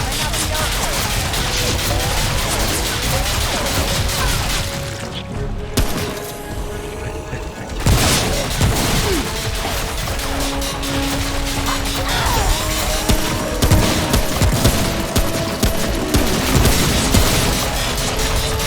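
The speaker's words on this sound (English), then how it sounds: "Ah, he has a gun!" Enemy gunfire in the video game Remnant: From the Ashes during a boss fight, dense bursts of shots and booming impacts running almost continuously under loud game noise, with a short lull midway.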